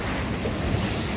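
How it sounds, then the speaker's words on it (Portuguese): Ocean waves washing onto the beach at night in Camboriú, Brazil, a continuous broad roar of surf with wind rumble on the microphone, steady and close, with no talking. "Olha as ondas."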